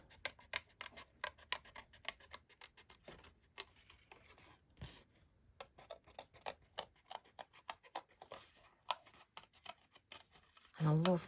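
Scissors snipping out a paper floral design, a run of small crisp cuts in quick irregular clusters, close and quiet, with a brief rustle at the end.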